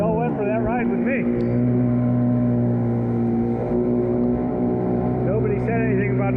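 Yamaha Waveblaster 2 jet ski riding with a steady, loud engine drone close to the microphone, wind buffeting and a few brief whistling pitch sweeps.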